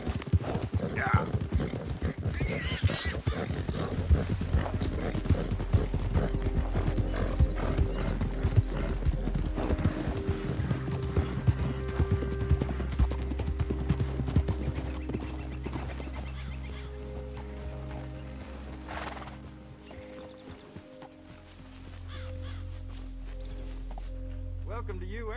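Horse hooves clip-clopping in Red Dead Redemption II, a steady rhythmic trot under game music and ambience that slows and fades late on, with a whinny and speaking voices nearby.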